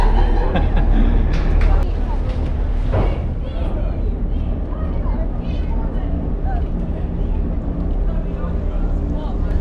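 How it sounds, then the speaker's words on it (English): A car ferry pulls out of Split harbour in Croatia on its crossing to Hvar Island, filling the air with a loud, steady low rumble of engine and churning water, wind buffeting the microphone and a faint murmur of voices. "The mooring line is in, and we've set off on our voyage now."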